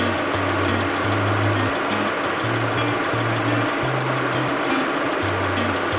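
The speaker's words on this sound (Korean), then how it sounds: "엔진 소리 한번 들려드릴게요." A Kia K5 2.0 LPI car engine idles steadily up close with the hood open, a constant rumbling drone with a faint pulsing hum underneath and no voices.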